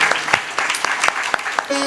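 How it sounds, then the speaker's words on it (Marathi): An audience at a Vitthal katha religious discourse gives a few scattered handclaps for the singer Bhairav Maharaj. The claps are sharp, separate and fairly close, and a short tonal sound comes in at the very end. "ज्यांच्या गोड गळ्याने ही कथा श्रीमंत होत जाणार आहे ते आमचे भैरव महाराज, त्यांच्यासाठी सुद्धा एकदा छान टाळी वाजवा"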